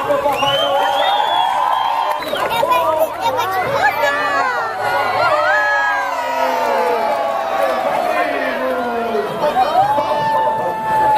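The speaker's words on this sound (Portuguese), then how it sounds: "cadê a salva de palmas pro Papai Noel?" At a Santa Claus house visit a lively crowd cheers and shouts, with children's high voices rising over scattered chatter and some clapping. The noise is loud and continuous throughout.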